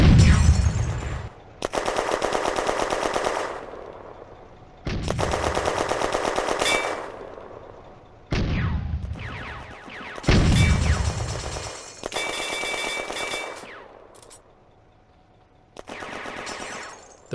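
Gunfire in a World War II wargame at a German machine gun nest near a bridgehead, May 1940: loud bursts of rapid automatic fire, each lasting a second or two, separated by short pauses and punctuated by sharp single shots.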